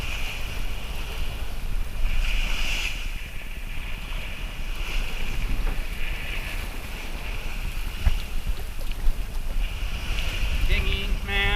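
A sailboat beats upwind through roughly six-foot ocean swells under a single-reefed mainsail and staysail at about five knots, with steady wind roar and rushing water filling the whole stretch and no speech.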